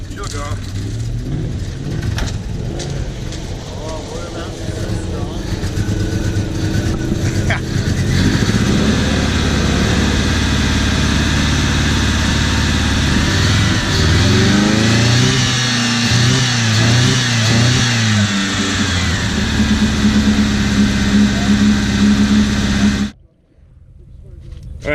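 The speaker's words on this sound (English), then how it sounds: "I'm gonna crank it over and we're gonna see how long it takes to fire up." A Volvo 740 engine with water in its oil cranks over, catches and revs steadily, the loud engine note rising and holding for about twenty seconds before cutting off abruptly, with a voice speaking over it early on.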